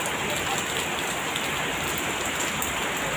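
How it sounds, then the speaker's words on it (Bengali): Heavy rain pours down steadily during a Bijoya Dashami festival outing, a dense, close, unbroken hiss of drops pattering on surfaces with no gaps and no clear talk. "অনেক জোরে বৃষ্টি নেমে গেছে।"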